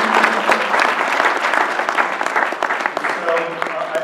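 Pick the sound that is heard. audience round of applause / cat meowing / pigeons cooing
audience round of applause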